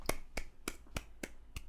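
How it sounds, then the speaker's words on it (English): A run of six sharp hand claps at a steady, unhurried rhythm, close and crisp, each a brief broadband smack with a quiet pause between, and no voices. "I'll give a little clap for that one"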